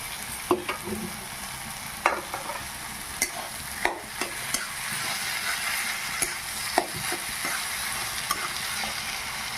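Fried prawns being stirred into a sizzling banana flower curry, with steady frying hiss throughout and sharp spoon scrapes and clicks against the pan at irregular intervals, close by.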